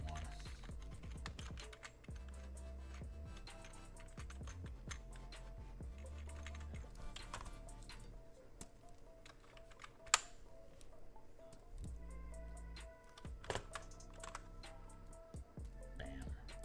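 Fingers type on a new computer keyboard, producing a steady stream of soft, close keystroke clicks with occasional sharper taps and no talking, fairly quiet throughout.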